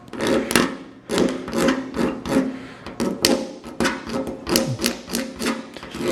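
Paint being scraped by hand off the body of a 1951 Dodge Crusader four-door chop top, a run of loud, repeated rasping strokes in an irregular rhythm, close and with no talk.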